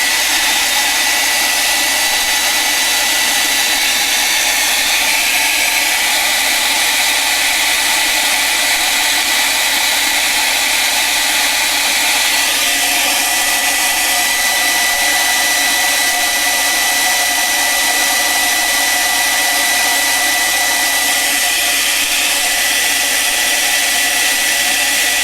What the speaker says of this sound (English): I don't really like using a hairdryer when I do fine art.